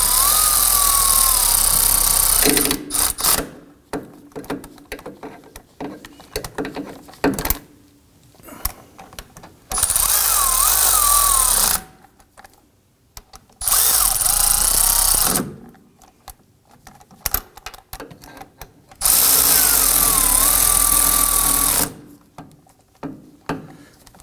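A power tool snugs the rear hub bolts on a 2005-2009 Subaru Legacy during a wheel bearing and hub replacement. It fires in four loud, whirring bursts separated by pauses, with no talk.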